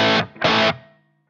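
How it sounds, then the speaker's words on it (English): Two distorted crunch-tone guitar chords played through an Axe-Fx with a small room reverb, each strummed hard and cut short, the second ringing out into a brief reverb tail and fading to silence. "the reverb that I use on my crunch channel is just a little room reverb"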